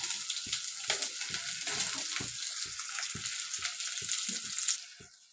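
Onions and tomatoes sautéing in a clay pot for mango fish curry give a steady close sizzle, broken by regular soft knocks of a spoon stirring, with no talk.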